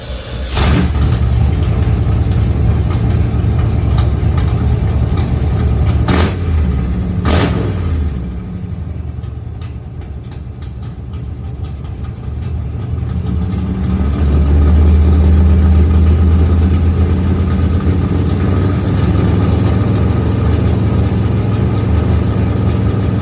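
A 350 TBI engine fitted with a 454 throttle body cranks and fires, blips a few times, then settles into a loud, steady idle that deepens and swells later, close by and alone.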